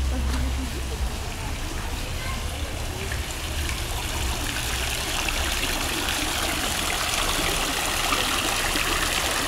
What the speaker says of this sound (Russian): И фонтан.